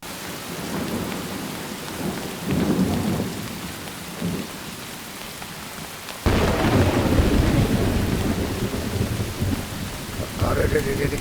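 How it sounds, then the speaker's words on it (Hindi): Heavy rain pouring down during a thunderstorm, a dense continuous hiss with low rumbling thunder, growing noticeably louder and heavier partway through and staying intense to the end. "कितनी तेज बारिश है यार।"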